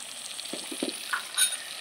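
Spice paste frying in a pan, a soft crackling sizzle near the cook with a few small knocks and a brief bright squeak from the utensil, with no voices.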